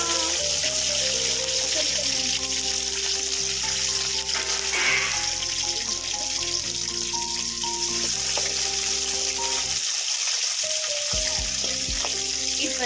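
Onion and green chilli fry in a pan with curry leaves while a colocasia stir-fry is being made, a continuous bright sizzle with background music playing throughout.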